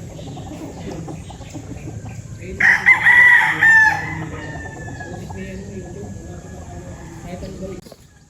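A gamecock stag crows once, loud and close, a drawn-out rooster call lasting about a second, set against quieter background murmur and ambient noise before and after.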